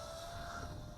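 Steady high-pitched whine of an FQ777 FQ10a FPV micro camera drone's tiny motors in flight, faint and continuous with a thin tonal hum, no voices.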